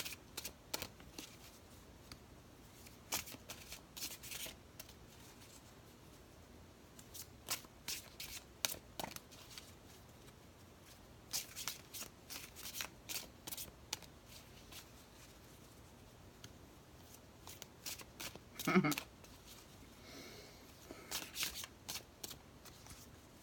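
Tarot cards are shuffled by hand in repeated quick riffling bursts, close and crisp, separated by short pauses in a quiet room.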